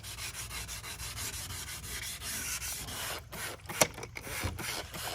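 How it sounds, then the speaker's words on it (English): Spray paint being sanded off a Don Prudhomme funny car body: a steady, close, continuous rubbing scrape with a brief sharper knock near the end. "the rest of it sands off pretty easy"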